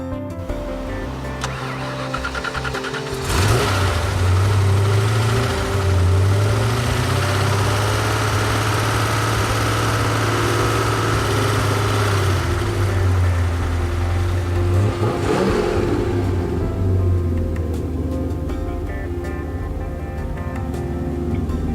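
An Intermeccanica car with a Ford engine idles with a low, steady rumble, then revs up once and a second time before settling back to idle. The engine is loud and close, with no talk over it.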